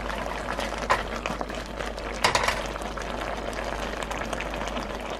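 Thick Korean braised hairtail fish sauce with radish simmers in a pot, giving a steady close crackle of dense bubbling with a couple of louder pops.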